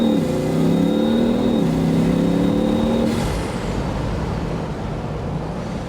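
A Bugatti sports car with 1,000 horsepower accelerates hard on the road, its engine droning loud and close with rising tones that drop away after a few seconds into steady road and wind roar.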